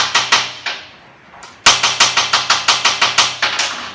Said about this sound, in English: If you want to reuse a lead strip, you can take a hammer and smooth it out.